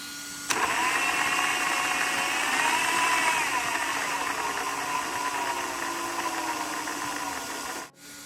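A sensored brushless XR8 4268 Pro G3 motor with an XR8 Pro G2 ESC, fitted in a Traxxas and run in low gear, whines steadily at close range for about seven seconds and then cuts off abruptly.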